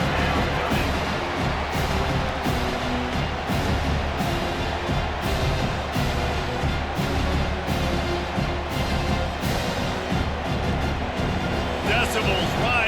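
Crowd noise swelling at a Michigan State vs. Penn State college football game on third down, a dense continuous roar heard under a commentator's steady talk.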